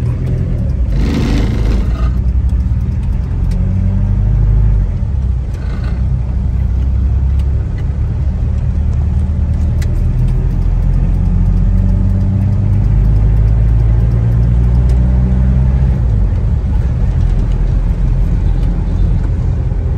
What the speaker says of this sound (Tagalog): yan pa yung makina. Medyo smooth pa po ang tunog nito.